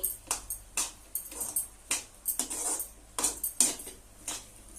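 Masala pasta stirred in a pan after curry leaves and coriander are added, with a series of close scraping and clinking strokes from a utensil against the pan in an uneven rhythm.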